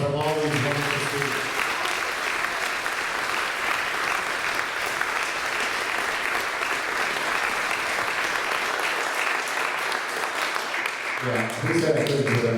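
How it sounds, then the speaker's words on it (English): Audience applause for students at a closing ceremony, a sustained wash of many clapping hands filling the room for about ten seconds, with brief talk at the start and again as the clapping fades. "Let's have a round of applause for all these wonderful students"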